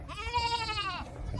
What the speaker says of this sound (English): Dang goats.